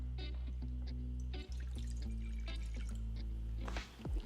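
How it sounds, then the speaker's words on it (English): Water pours into a small bowl for bread dough, a soft trickle with light splashes and drips running steadily under a low background hum. "we're gonna pour in our water"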